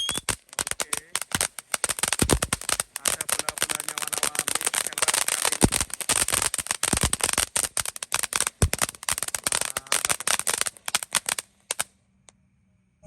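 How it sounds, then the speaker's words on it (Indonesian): A blooming flower fountain firework crackles loudly and continuously, a dense, rapid spray of snapping pops lasting over eleven seconds before cutting off abruptly. "ini air mancur blooming flower. Ini ada bunyinya kalau sudah menyala nanti."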